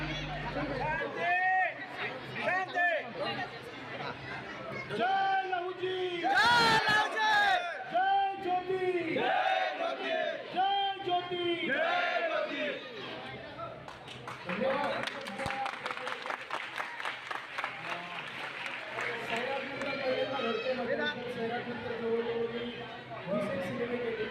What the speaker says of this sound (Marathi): हजारोच्या संख्येने प्रेक्षकांची गर्दी उसळली होती